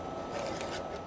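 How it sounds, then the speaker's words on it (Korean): Biodegradable cellulose-based plastic film is cut in a short, faint, continuous rasping stroke, close up, with no talking. "그리고 우리 재단해서 우리 비닐하고 테스트 한번 하는 걸로 할게요"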